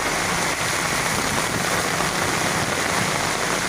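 Torrential monsoon rain in Pakistan pours steadily onto surfaces, a dense, loud, even hiss of countless drops with no pauses and no voices.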